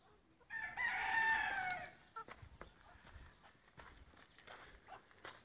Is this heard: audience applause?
no